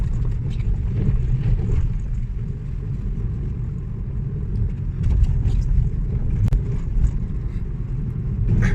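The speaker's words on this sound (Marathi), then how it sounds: "कोकणातून मुंबईच्या दिशेने जाणाऱ्या गाड्या भरपूर आहेत" Cars driving along the road at Kashedi tunnel, with a continuous low rumble of passing traffic and engines, fairly loud and without talk.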